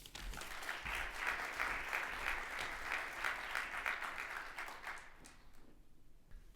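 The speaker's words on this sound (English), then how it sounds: "How about another round of applause for Frank?" A press conference audience applauds, dense steady clapping at moderate level for about five seconds before thinning out and fading toward the end.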